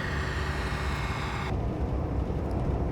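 A Class 166 commuter train in Train Simulator 16 pulling away on the run to Oxford, a steady motor drone with broadband rumble that shifts and darkens halfway through, no speech.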